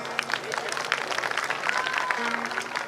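A large crowd applauds on an open ground at a qawwali night in Karachi, dense sustained clapping with some crowd noise and a voice over a loudspeaker underneath.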